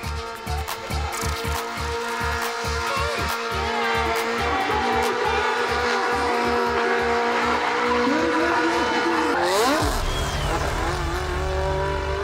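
A stunt car drifting in a sliding show draws a throbbing, pulsing engine with long squealing tire skids, loud and close, ending in a rising whine before the engine settles into a steady drone.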